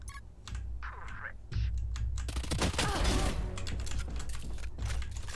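Rapid bursts of gunfire from a Valorant match crackle hard and loud in the middle, preceded by a brief faint shot and light keyboard clicking, with sustained noise and clatter continuing afterward.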